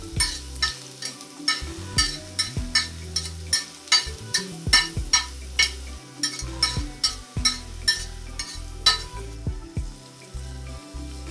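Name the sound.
chopped onions added to hot cooking oil, frying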